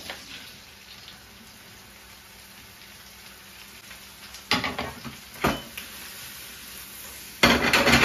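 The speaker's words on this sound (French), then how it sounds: "Le beurre a fondu, avec l'huile qui restait des tendrons, et maintenant, on va mettre les champignons." Mushrooms go into a pan of melted butter and leftover oil, with a low background sizzle broken by a few loud bursts of frying and stirring as they hit the fat.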